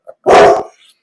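A big dog gives a single loud, close bark, short and full-bodied, alone with a faint yip trailing after it.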